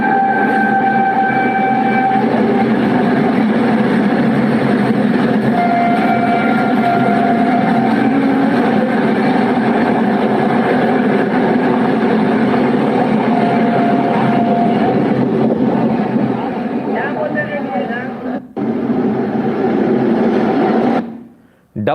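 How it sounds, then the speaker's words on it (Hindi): A double-engine green corridor oxygen train runs past with a loud continuous rumble, wheels clacking and a horn sounding, before the noise cuts away near the end; a voice talks over it. "डबल इंजन के साथ भागती हुई ग्रीन कॉरिडोर की ये रेल"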